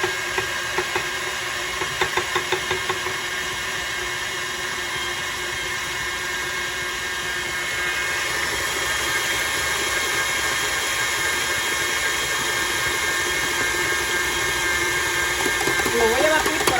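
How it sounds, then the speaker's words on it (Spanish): Electric mixer beating margarine and sugar for a birthday cake at high speed, a steady whirring drone that runs throughout with a slight rise near the end, with faint talk over it. "Puede usar cualquier tipo de batidora."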